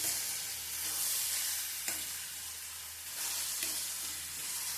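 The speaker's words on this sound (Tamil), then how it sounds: "வெங்காயம், இடிச்ச பூண்டு எல்லாம் சேர்த்து நல்லா வதக்கணும்." Onion and crushed garlic sauté in a pan for a drumstick thokku, a steady close frying hiss broken by occasional soft scrapes of a stirring spoon.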